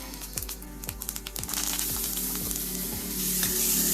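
Dried red chillies, asafoetida and curry leaves sizzle in hot oil for a tempering, a bright crackling hiss that swells louder and fuller after being stirred, with faint rhythmic clanks of a spoon against the pan.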